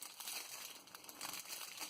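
Plastic wrapping around a new keyboard crinkles and rustles continuously at close range while being unboxed, a dense crackling texture with no speech.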